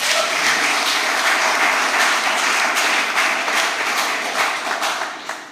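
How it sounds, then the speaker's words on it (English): Steady audience applause fills a lecture at a community center, dense and continuous for several seconds before tapering slightly at the end, with no talking over it. "please give him a round of applause."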